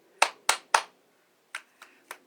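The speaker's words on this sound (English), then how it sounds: "Clapping hands." Hands clap sharply three times in quick succession, then three softer claps follow after a short pause, close and alone during an easy stretching warmup.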